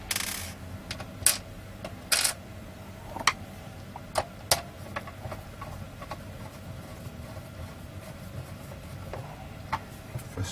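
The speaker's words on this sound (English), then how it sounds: "Put these screws back in." Small screws clicking and tapping as they are fitted back into a returned catalogue electronics casing, a series of sparse sharp ticks over a low steady background hum, close and fairly quiet with no talk.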